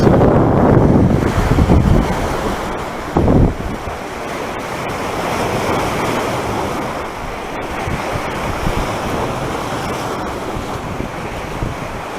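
Ocean surf rolls and crashes at the shore under strong gusting wind that buffets the microphone, a loud continuous roar with a heavier rumble early on.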